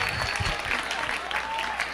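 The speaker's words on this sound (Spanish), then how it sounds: "pido un fuerte aplauso, por favor" Audience applause fills a lecture hall in honour of a literature professor, a dense steady clapping that holds loud throughout with faint crowd voices mixed in.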